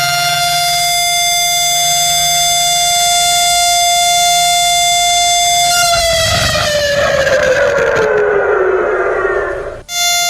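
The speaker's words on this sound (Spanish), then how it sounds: "a las 6:29 de la mañana se escucharon esas sirenas que recordaban el momento en que comenzó el ataque." Memorial sirens in Tel Aviv wailing loud and steady, a sustained rising tone that then slides downward as it winds down, with a hard cutoff near the end.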